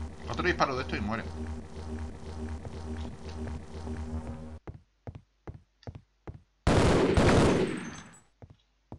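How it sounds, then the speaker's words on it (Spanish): Gunfire in Half-Life: Opposing Force: a sustained buzzing weapon drone, then a string of sharp, separate shots, and a loud extended burst near the end, all from a game. "Disparo de esto y muere."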